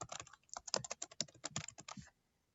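Typing on a computer keyboard in a classroom demonstration, a quick run of close, crisp key clicks for about two seconds, then silence.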